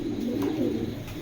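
Racing pigeons of the Red Fox line coo in a steady, low, throaty murmur, close and continuous, with no talking over it.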